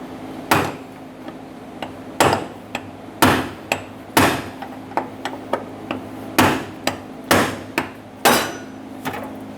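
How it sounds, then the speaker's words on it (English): A hammer taps a brass punch against the fuel pump lock ring of a 2014-2018 Chevrolet Silverado 1500, giving sharp metallic knocks in an irregular series, close and loud, with short pauses between strikes. "we're going to give it some taps with our hammer"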